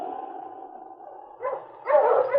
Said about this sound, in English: we'll get our dog team and follow